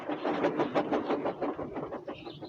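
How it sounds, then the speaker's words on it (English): A steady rumbling roar with a rhythmic clatter, like a train rushing past, loud and continuous throughout. "All he could do was watch the trains rushing through the other tunnel."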